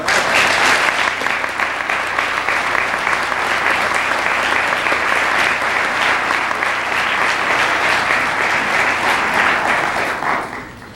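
Loud, sustained audience applause fills a university lecture hall after a talk on race and genetics in Islam, many hands clapping steadily up close before tapering off in the final second.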